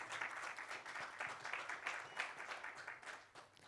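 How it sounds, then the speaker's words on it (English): Audience applause rings out at a business conference panel introduction, a dense, steady patter of many hands clapping for a few seconds before easing slightly at the end. "Let's have a huge round of applause."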